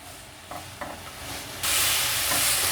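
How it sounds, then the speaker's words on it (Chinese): Celery stir-frying in hot oil in a flat-bottomed wok for a vegan dish crackles with a close, steady sizzle, a couple of light stirring scrapes, then a sudden louder surge of hiss; no talking. "油热了之后，放入芹菜，把芹菜炒香。"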